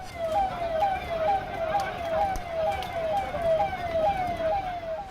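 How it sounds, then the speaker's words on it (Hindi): A police siren wails in a steady repeating rise-and-fall pattern, somewhat distant, over a constant rumble of traffic and background noise during a protest in Khatima, Uttarakhand. "दूसरी तरफ पुलिस की गाड़ियों का सायरन सुनाई दे रहा है"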